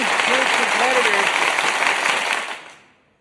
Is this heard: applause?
yes